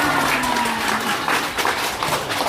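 A crowd at a religious gathering breaks into a big round of applause, dense, close clapping that fills the whole short stretch at steady loudness.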